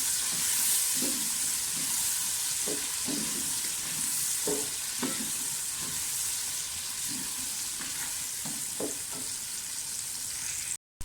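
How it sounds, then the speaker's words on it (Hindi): Potatoes fry in hot oil for a biryani, a steady loud sizzling hiss throughout with occasional soft stirring knocks close by. "आलू को पहले फ्राई कर लें।"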